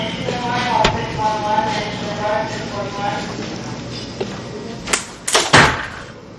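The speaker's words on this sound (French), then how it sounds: "Est-ce que tu peux fermer la porte?" A door shuts near the end of a dialogue scene, with a few sharp knocks and a thud rising over background talk and room noise.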